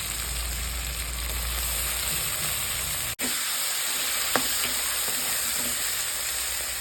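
Cut potatoes tipped into onions frying with ginger garlic paste in a pan: a loud, steady sizzle and hiss that dips for a moment, then continues, with a faint clink.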